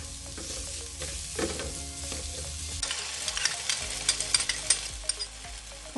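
Onions sizzle steadily in a hot pan as they are sautéed until wilted, a dense continuous frying hiss with occasional spatula scrapes and crackles, close and without talk.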